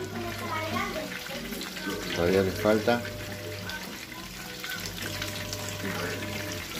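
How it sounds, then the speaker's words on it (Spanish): Breaded fish marineras frying in oil, a steady close sizzle and crackle running throughout, with a short spoken phrase over it. "ahí estamos fritando"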